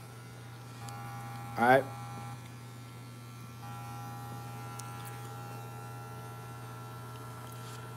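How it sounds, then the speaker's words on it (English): A Gold FX hair trimmer buzzes steadily at low volume over a faint electrical hum during a barbering session, while a voice speaks briefly. "he attacks with the Gold FX trimmer"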